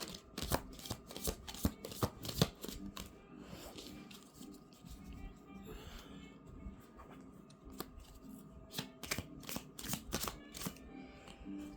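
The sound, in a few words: shuffling tarot cards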